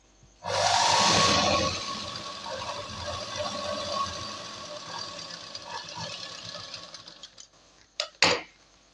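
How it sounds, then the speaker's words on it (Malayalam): A sewing machine stitches a skirt to its lining, starting with a loud fast whir that settles into a steady mechanical drone, then stops with a few sharp clicks and a handling rustle. "അത് ഇതാ ഇവിടെ തന്നെ ഈ സ്റ്റിച്ച് ചെയ്തതിൻ്റെ താഴെ തന്നെ വെച്ചിട്ട് നമുക്ക് താഴോട്ട് സ്റ്റിച്ച് ചെയ്യാം."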